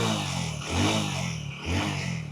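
A Hero Splendor Plus motorcycle engine revs up twice under the throttle, each rise swelling from a steady idle putter and falling back, close by with no talking.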